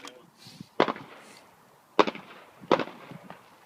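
Three sharp gunshots ring out during a fast draw and reload demonstration, spaced about a second apart, each a loud crack followed by a brief echoing tail.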